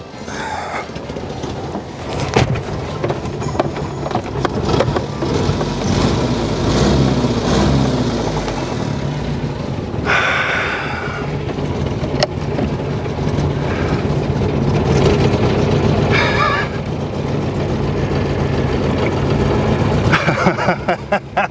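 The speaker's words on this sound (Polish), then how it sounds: "nic innego nam nie pozostaje jak przejażdżka tym trójkołowym Citroenem" A small car engine of a three-wheeled Citroën DS runs steadily throughout, with rumbling and rattling as the car drives along, a few higher whines rising now and then.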